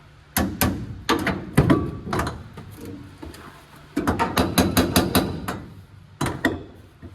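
Rapid, irregular hammer blows ring out on thin car body sheet metal of a 1958 Plymouth inner wheel well, sharp and close, in clustered bursts with short pauses between runs.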